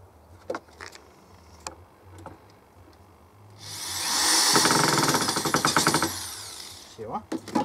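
Power screwdriver drives a self-tapping screw into a wooden shovel handle, a loud whirring burst of about three seconds with rattling and a few light taps and clicks before and after.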